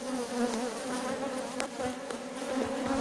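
Honey bees buzz around an open hive during an inspection, a close, continuous droning hum with individual bees flaring louder as they pass near.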